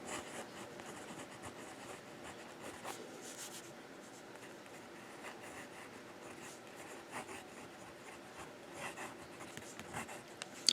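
Jinhao 159 fountain pen with a wet, smooth nib writing in reverse on paper, a faint continuous scratchy rubbing with small strokes and pauses, close and quiet with no talk.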